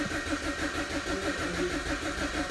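A BMW 1 Series E88 with the N43 petrol engine, suffering a crank-no-start fault, fires and runs with a steady, close mid-pitched engine drone that holds for the whole stretch, with no talk over it.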